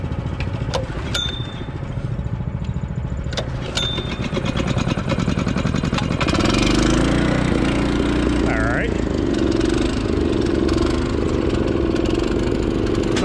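A Graco LineLazer V 5900 line striper's gas engine starts and settles into a steady mid-pitched running drone, close and loud, with some clanks and mechanical handling noise before the start.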